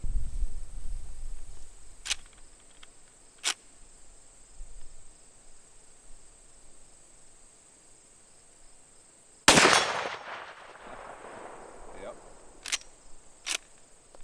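A single loud, sharp gunshot from 240 grain Magtech semi-jacketed soft point rounds, fired at an outdoor range with crickets chirping steadily and a few faint clicks around it.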